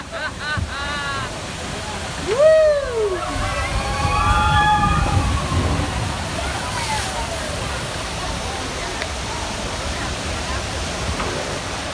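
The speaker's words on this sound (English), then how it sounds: "you may get the wettest on the whole ride right here, and that's thanks to the other boats coming down the big drop" Water sloshes and splashes around a log boat on Disney World's Splash Mountain flume ride as other boats come down the big drop, a constant rushing wash with excited voices and shrieks rising over it early on.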